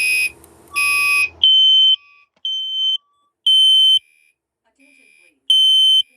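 A building fire alarm sounds in sharp repeating electronic tones, loud, clipped bursts separated by short silences, following an earlier harsher buzzing burst.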